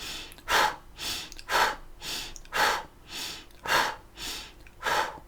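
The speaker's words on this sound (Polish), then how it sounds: "oddechów głośnych, troszeczkę innych, tak zwane energia ognia" A person doing a fire-energy breathing exercise, taking loud forceful breaths close to the microphone, about eight rhythmic rushing exhales about half a second apart, with no talking.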